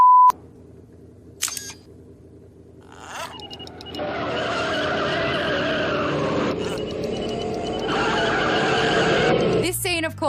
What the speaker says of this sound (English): Doc Brown's iconic time machine, fashioned from a DMC DeLorean sports car